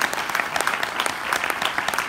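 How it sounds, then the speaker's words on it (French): An audience at a public talk on free public transport applauds steadily, a dense patter of many hands clapping close by for the whole stretch. "je pense que vous entendez les applaudissements"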